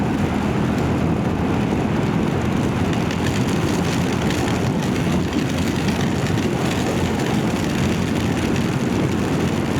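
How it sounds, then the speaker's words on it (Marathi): Dense, steady roar of heavy monsoon rain on the Mumbai–Goa highway between Panvel and Indapur, mixed with a low rumbling drone, loud and continuous throughout with no voices. "हो जबरी पाऊस आहे, जबरी एकदम."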